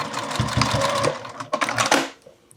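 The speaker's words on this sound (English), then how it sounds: "I'm sewing in the center of the zipper" A sewing machine stitches through a zipper on a fabric wallet in rapid, even mechanical bursts. It runs close and loud for about two seconds, then stops.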